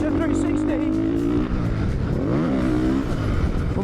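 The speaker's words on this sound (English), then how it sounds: "there's a revving Kove behind me now" Kove 450 dirt bike engine revving nearby, a loud continuous growl that climbs and falls in pitch, with someone talking over it throughout.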